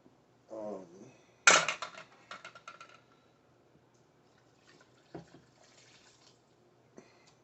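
Water poured from a tap onto rice in a pot for cooking, a short splashing pour followed by a few faint drips and clinks in a quiet kitchen.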